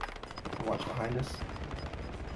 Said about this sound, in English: Some firing going on behind us.